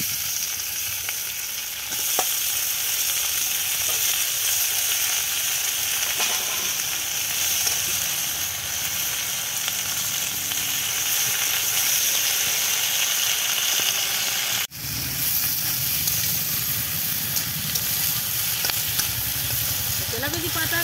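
Ivy gourd leaves, papaya, potato and banana hiss and sizzle steadily in hot oil in a pan with fried onion, a continuous close frying crackle with one sharp knock of utensil near the end.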